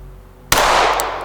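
A single sharp pistol shot strikes a small two- to three-inch steel plate on a range, a loud crack with a ringing metallic hit that decays over about a second.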